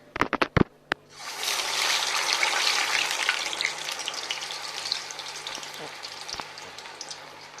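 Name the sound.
urad dal vada frying in oil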